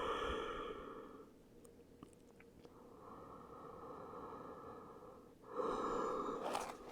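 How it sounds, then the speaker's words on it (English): Slow, deep breathing in and out during a yoga rest, with long airy inhales and exhales heard up close in a quiet room, the last one louder. "Take a few deep breaths there"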